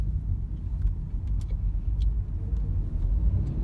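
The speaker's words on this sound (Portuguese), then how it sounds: "Esse daí, pessoal, é o carro do dinheiro." A car used as a cash transport vehicle drives past on a street in Japan, a loud steady low engine and tire rumble sustained close by throughout, with no talking.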